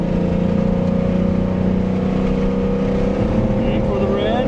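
A race car on the Road Atlanta circuit holds a steady, loud engine drone, rising into a higher whine near the end, while an instructor's voice talks over it.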